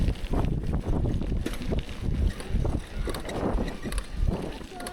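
Strong gusty wind buffets the microphone in a constant low roar, with voices faintly audible underneath.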